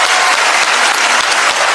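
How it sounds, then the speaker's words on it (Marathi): A stage-show audience applauds loudly, dense continuous clapping filling the whole moment close by. "एकदा जोरदार टाळ्या हो द्या विचार मंचासाठी."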